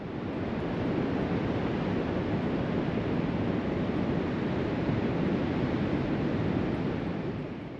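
Ocean surf on a Vancouver Island west coast beach at sunset, a steady, loud broadband roar of breaking waves with no distinct individual crashes, continuous throughout.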